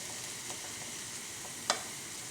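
Tomatoes hit a hot pan and sizzle steadily, a dense frying hiss throughout with one sharp clink partway through, close and fairly loud with no talking.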